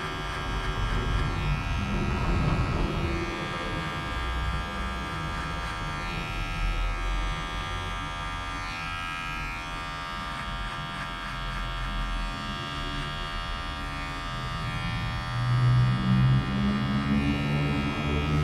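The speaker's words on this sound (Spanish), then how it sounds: "Primero utilizaremos lo que es nuestra casqueteadora para marcar nuestro primer número," Barber's electric hair clippers buzz steadily while cutting hair at the sideburn, a close, continuous hum lasting throughout with small shifts in pitch and level and no talk.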